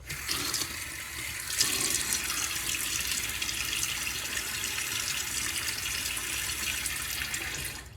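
Water pours steadily from a tap into a sink before a wet shave, a continuous close hiss and splash with a brief surge near the start and no talking.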